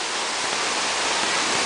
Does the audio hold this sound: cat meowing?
no